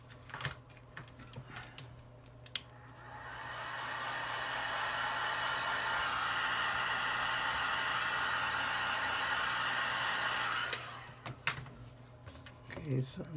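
Hot air blows onto an iPhone 11 Pro screen, a steady hissing rush that rises in and holds for several seconds before cutting off, framed by small handling clicks and taps.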